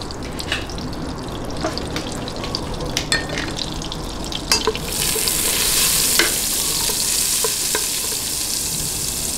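Butter and a little oil sizzle in a pan with small pops and scrapes, and the frying hiss grows louder and more intense partway through, continuing steadily to the end.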